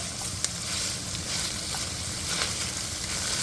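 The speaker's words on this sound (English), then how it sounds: "I'm going to let that bacon cook a little more" Bacon and onions frying in a pan over fairly high heat, a continuous close crackling sizzle with a few small pops, no voices.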